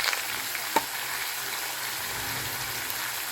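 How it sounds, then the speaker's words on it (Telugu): Ginger garlic paste frying in oil for chicken pickle, a steady soft sizzle with a single sharp click near the start, no talking. "ఒక స్పూను అల్లం వెల్లుల్లి పేస్ట్ వేసి తడి లేకుండా ఎందుకంటే పచ్చడి పాడైపోతుంది కదా మంచిగా వేయించుకోవాలి"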